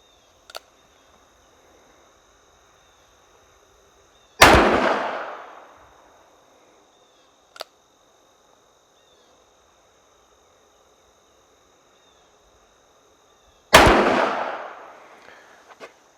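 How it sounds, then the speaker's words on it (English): A revolver firing 125 grain .357 Magnum rounds outdoors at a range, two loud sharp reports several seconds apart, each trailing a long echoing decay, with faint smaller clicks between and quiet insect chirping in the background. "There's 3 rounds through the revolver."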